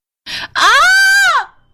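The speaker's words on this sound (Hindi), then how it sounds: "अनु की चीख सुनकर सभी उसके कमरे में भागे चले आते हैं" A woman screams once in fright, a short gasp followed by a loud, sustained, rising-then-falling shriek that cuts off abruptly, heard close and alone in an old haunted mansion setting.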